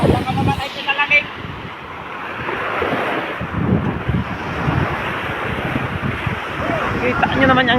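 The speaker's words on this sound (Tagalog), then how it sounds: "Napakalakas ng alon." Heavy surf from large ocean waves roars steadily near a boat with strong wind buffeting the microphone, and brief voices come through over the noise.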